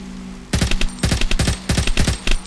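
Sniper rifle shots in the survival game From the Fog ring out in rapid bursts of sharp, loud cracks with short echoing tails, several quick clusters packed into a couple of seconds.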